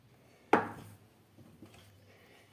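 A knife cuts through cauliflower on a kitchen board, giving one sharp, crisp cut followed by faint, quieter handling and a few soft knocks.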